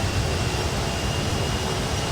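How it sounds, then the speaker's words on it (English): Jet engines spooling up on an idling, taxiing aircraft in Grand Theft Auto 5 with an engine sound mod, a steady, loud, broadband roar throughout with no talk. "As you hear, the engines are being loaded up."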